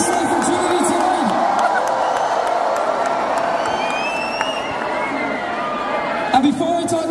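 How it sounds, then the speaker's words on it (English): Concert crowd of fans screaming and cheering in a large venue, a broad, sustained roar of many voices with scattered whoops, one louder burst near the end. "Lads, give me a scream."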